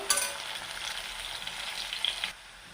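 Sliced bitter gourd fries in oil over a medium flame while being stirred, giving a close, steady sizzle that stops abruptly near the end.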